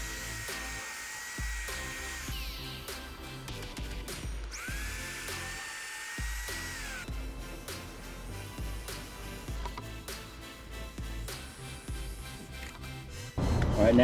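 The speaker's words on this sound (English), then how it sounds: "let's start screwing it in and getting this thing together." A power drill driving screws into wooden beams for an outdoor lizard enclosure: repeated whining bursts that rise and hold for a few seconds each, close and fairly loud, with a louder thump at the end.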